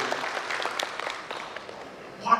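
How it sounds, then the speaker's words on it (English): A conference audience gives a round of applause for Dr. Prema, a surgeon, heard as a fairly soft, continuous patter that thins out toward the end. "one round of applause for Dr. Prema"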